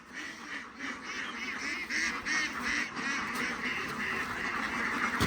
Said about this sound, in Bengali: এখন হাঁসের খানা পরিবেশন হবে এরা ফিট হরে হাঁসের খানা পরিবেশন হচ্ছে